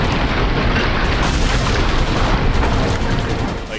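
Cannon fire and explosions from a battle in the Horizon Zero Dawn video game, a dense, continuous barrage of loud booms and blasts rumbling without pause.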